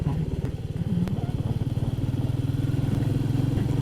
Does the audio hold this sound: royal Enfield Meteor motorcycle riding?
yes